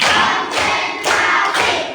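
Rhythmic group clapping in a classroom cheer, four loud synchronized bursts of claps in a steady beat, close and energetic.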